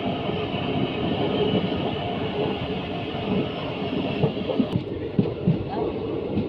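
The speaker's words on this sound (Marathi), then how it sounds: "फायनली गाडी ठाणा स्टेशनला पोहोचलेली आहे" A crowded Mumbai local train pulls into Thane station, its carriages rumbling and clattering in a steady, loud wash that thins toward the end, with brief knocks and a faint sense of voices in the crowd.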